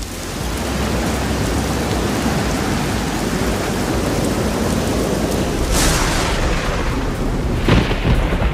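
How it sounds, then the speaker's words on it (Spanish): Heavy rain pouring onto rocks during a thunderstorm on Menorca's Camí de Cavalls coastal trail, a constant loud hiss with sharp thunder cracks bursting through near the end. "Estalló la tormenta y aunque nos cobijamos debajo de unos salientes de las rocas, eso no evitó que llegáramos empapados y que siguiera lloviendo el resto de la tarde."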